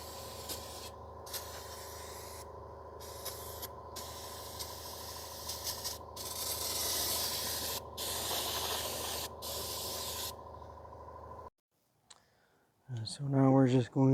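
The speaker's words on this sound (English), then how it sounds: "So I'm just gonna wash everything down." Aerosol brake cleaner sprayed in steady hissing bursts over the rear drum brake parts of a 2015 Toyota Sienna 3.5 V6, several long sprays with brief pauses, then a short quiet gap and some faint clattering of parts at the end.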